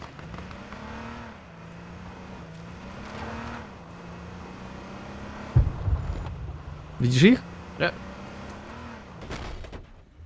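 A car engine in the H1Z1 battle game hums steadily with small pitch swings, then sharp impacts and crashes burst in near the end while people talk over it.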